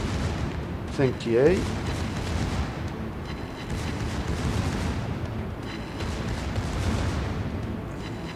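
A warship's main gun fires in a naval battle game, a deep booming shot rolling under steady battle ambience, with someone talking over it.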